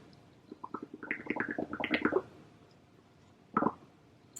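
Air blown through a straw into bubble solution makes a quick run of wet, bubbling pops that rises and then stops, followed by a brief second burst after a pause.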